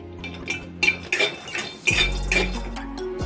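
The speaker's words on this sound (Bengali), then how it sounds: "1 মুঠো মতন বাদাম আমি শুকনো ভেজে নেব।" A handful of peanuts is dry roasted without oil in an iron kadai on a gas stove, giving close metallic clinks and scrapes from stirring over a low burner rumble.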